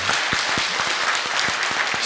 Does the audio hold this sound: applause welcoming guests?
yes